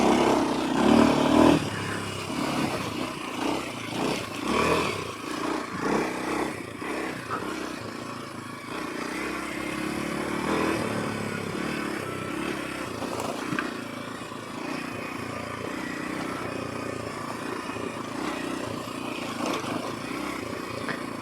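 A Kawasaki KLX230 dual sport motorcycle being ridden, its single-cylinder engine pulsing and revving unevenly through the ride, with wind noise throughout and no talk.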